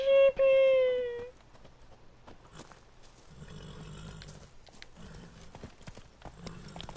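Roach, the horse in The Witcher: Blood and Wine, gives a loud whinny at the start, followed by a soft, rhythmic beat of hooves on the ground.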